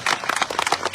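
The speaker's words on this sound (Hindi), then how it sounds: "इसके लिए इस पूरी टीम को जोरदार तालियों से स्वागत करने की आवश्यकता है" A crowd claps in a loud, dense burst of applause to welcome a team of women officers at a public event in Khagaria district, close and continuous for a moment.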